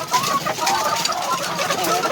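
A flock of Dekalb white laying chickens clucks and murmurs continuously nearby, with overlapping busy calls and a steady background of farm noise.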